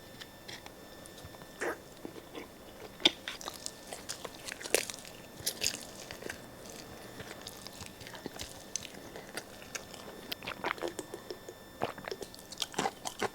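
Close, quiet chewing and biting on Chinese dumplings and steamed buns, with irregular soft crunches and wet mouth sounds spread over several seconds and no talking.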